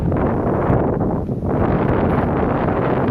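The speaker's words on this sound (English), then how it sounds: "Strong breeze." Strong breeze buffeting a microphone outdoors during an airgun field test, a loud continuous rumbling whoosh that dips briefly before surging back.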